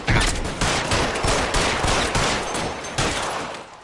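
Rapid bursts of gunfire from the L.A. Noire video game on PlayStation 5, loud and continuous with repeated sharp shots running through the whole stretch and no talking.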